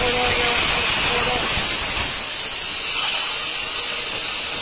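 A homemade CNC plasma cutter cuts a rocket nose cone, giving a loud, continuous harsh hiss with a steady high whine, close and alone throughout.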